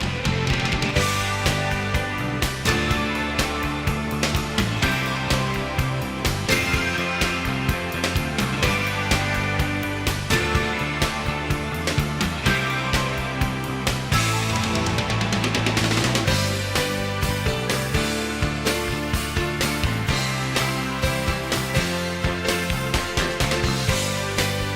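Piano part inside a song heard within the full band mix, with drums, bass and guitar all playing steadily and loudly throughout.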